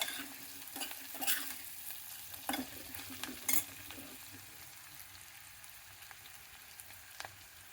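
Chopped onions and tempering spices sizzle and fry in a pan while a spoon stirs and scrapes, with soft, intermittent clinks over a steady low sizzle.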